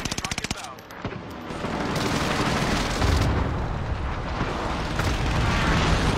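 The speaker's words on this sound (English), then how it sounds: "Target's painted for airstrike." Loud airstrike explosions in Call of Duty: Warzone, opening with a rapid burst of gunfire, then sustained rumbling blasts and debris roar that build and hold steady, with faint talk underneath.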